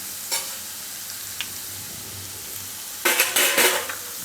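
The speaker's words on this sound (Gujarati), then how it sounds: "આપણે જે વાટેલું લસણ લીધું હતું એ આપણે એમાં નાખી દેવું" Crushed garlic and chilli dropped into hot oil in a pan on a low gas flame, giving a faint steady hiss with a couple of small taps, then a louder burst of sizzling and spattering near the end.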